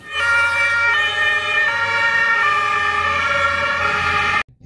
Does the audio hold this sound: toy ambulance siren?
yes